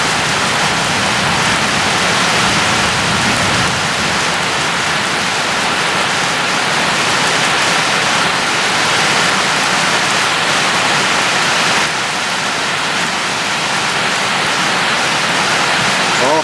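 Steady rain falls outdoors on a group of ducklings huddled together, some on a fence; a dense, even hiss of raindrops runs loud and unbroken throughout, with no voices.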